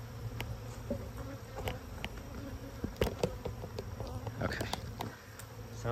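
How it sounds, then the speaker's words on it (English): Honey bees swarm and buzz continuously around hive comb during a messy removal, a dense steady insect hum with individual bees passing close by. "Still got a bunch of bees here."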